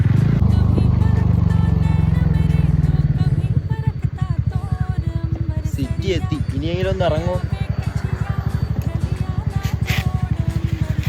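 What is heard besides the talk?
motorcycle riding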